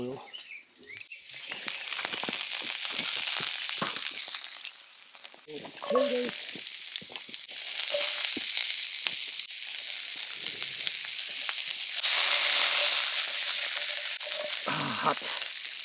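Steak fat cap and oil frying in a hot pan, a steady loud sizzle with stirring and scraping through most of the stretch, briefly under a voice.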